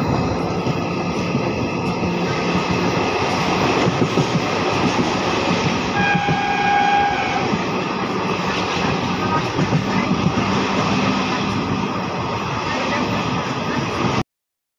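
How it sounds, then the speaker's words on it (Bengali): A continuous, loud rumble and clatter of the Digha–Malda Town special train running at speed past Jagpur station, with a brief horn tone midway. "জাগপুর স্টেশন পার করছে ট্রেন।"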